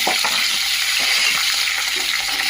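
Green chillies sizzling in hot garlic tempering oil for a gourd and potato fry, a steady close frying hiss with faint stirring clatter underneath.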